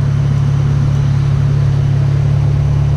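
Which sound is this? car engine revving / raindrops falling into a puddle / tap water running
car engine revving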